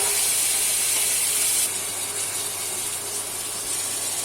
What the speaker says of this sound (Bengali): এখন মসুর ট্যাঙ্গাগুলো কষিয়ে নেব